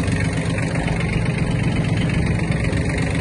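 Small Kubota B1-17 mini tractor engine running steadily with the PTO engaged, a continuous low diesel drone at close range with no talking.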